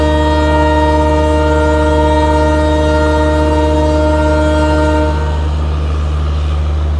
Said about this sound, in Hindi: तो ये अपनी चमचमाती राजधानी एक्सप्रेस